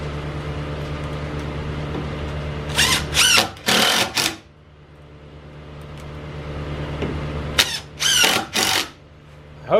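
Cordless power drill drives screws into the metal plates of a chicken coop wheel kit: two loud close bursts of whining spin, each a few short pulses, over a steady low hum.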